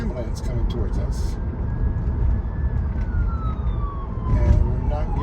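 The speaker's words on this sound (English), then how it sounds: "Now, right now, we have an ambulance coming towards us." An ambulance siren approaches a Tesla car on the road, a long wailing tone sliding up and down over steady cabin and road rumble, with a voice talking over it.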